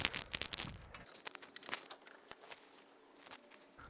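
Snips cutting the excess tails off cable ties on a vehicle wiring harness near the fuel tank of a Next Gen Ford Ranger, giving a few sharp close clicks and crinkling snaps with quiet gaps between.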